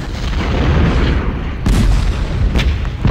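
Heavy artillery fire from the Ultimate General: Civil War game at Malvern Hill, a dense, loud rumbling barrage with repeated booming cannon blasts layered over one another and no voices.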